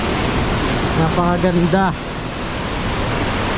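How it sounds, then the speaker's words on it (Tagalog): The Bumudok Waterfalls in the Cordillera give off a loud, steady broadband roar of rushing water. A voice speaks briefly over it. "Nandito na tayo ngayon sa Bumudok Waterfalls."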